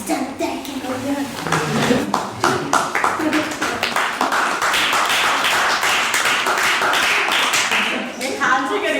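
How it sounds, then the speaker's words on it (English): Audience at an annual general meeting clapping for candidates standing at the front: dense, sustained applause of many hands, loud and continuous for the whole stretch, with a brief voice near the end. "You're gonna totally regret clapping this much"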